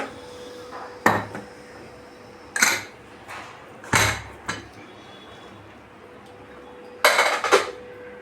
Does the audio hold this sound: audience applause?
no